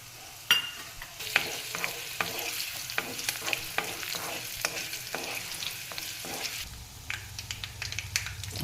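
A spoonful of white sesame seeds hits hot oil already holding mustard and cumin seeds, setting off a dense crackling sizzle full of quick pops and spits that keeps going, with some stirring, throughout.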